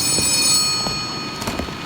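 A telephone rings in the postman horror game Letter Lost, a steady electronic ringing tone held under soft ambient noise with faint intermittent knocks.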